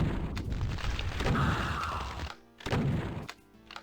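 Super shotgun blasts in DOOM on map 27, Respite of the Innocent, loud heavy booms with a burst of game noise, two impacts separated by a short gap.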